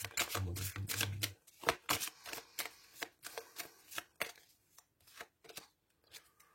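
Tarot cards shuffled quickly in the hands for a reading, then single cards drawn and laid down: a dense riffling patter that breaks into separate crisp snaps and taps, close and clear with no talking.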